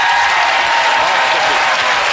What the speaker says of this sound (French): On applaudit les Verts.